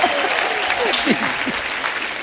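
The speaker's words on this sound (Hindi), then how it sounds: "शान साहब के लिए जोरदार तालियां हो" A studio audience at a TV comedy show breaks into loud applause for a celebrity guest, dense clapping with cheers and a whistle rising over it.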